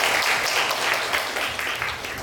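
An audience at a lecture on welfare policy applauds, a dense, steady wash of many hands clapping in a hall that continues throughout.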